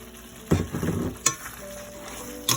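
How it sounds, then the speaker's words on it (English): Tofu frying in a hot pan for a Malaysian tofu sambal, a moderate sizzle with a few louder bursts as pieces hit the oil or are stirred, no talking. "I'm adding in the tofu now"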